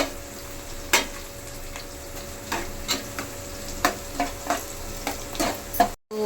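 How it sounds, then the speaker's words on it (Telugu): Onions fry in a pan over a medium flame, a steady soft sizzle broken by regular scraping stirs. The frying is fairly quiet, and nobody speaks. "మీడియం ఫ్లేమ్ మీదే ఫ్రై చేసుకోవాలి"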